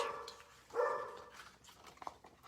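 A faint dog barks and whines at a distance, short yelps over a low background hiss.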